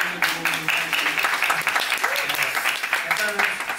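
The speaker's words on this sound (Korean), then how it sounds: "박수." Audience applause at a musical stage greeting after a matinee closing performance of 'Oz', steady dense clapping throughout with some voices mixed in.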